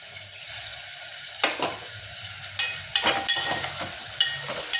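Onions go into a pan with dried fish pieces and start frying, a low sizzle punctuated by several sharp stirring and scraping bursts from a spatula, close up.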